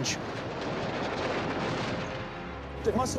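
A railway bridge blown up by demolition charges gives a sustained, dense roar of blast rumble and debris that holds steady for several seconds and ends with a sharp crack.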